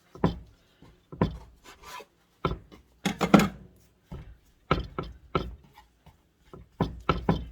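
A knife cuts soft sweet potato dough on a floured board, giving a series of quiet, soft thumps and scrapes in an uneven rhythm, close and alone.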